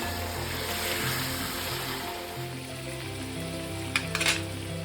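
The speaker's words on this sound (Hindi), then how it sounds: "अब मैं इसमें ग्रीन चिलीज ऐड कर रही हूँ। इनको अच्छे से भून लें आप।" Chicken pieces sizzle and fry with green chillies in a karahi, a steady bubbling hiss throughout, with a couple of brief clinks of a utensil against the pan near the end.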